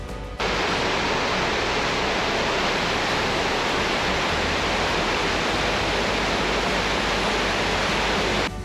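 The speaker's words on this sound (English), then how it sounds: "a short walk down for a view of the Temperance River Falls, where it opens up directly into Lake Superior" Temperance River Falls pours into Lake Superior with a steady, loud, broadband roar of rushing water that holds constant from start to finish, with no voices.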